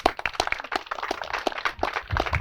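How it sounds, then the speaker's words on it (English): Audience applause at a public library groundbreaking ceremony in Harrington: a crowd claps in a steady patter of overlapping hand claps, moderately close, swelling slightly toward the end. "give yourselves an applause"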